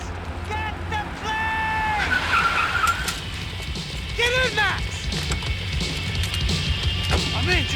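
In Max Payne 3 gameplay, a car engine drones while tires squeal and skid in several sharp bursts, with game characters talking and shouting over the driving.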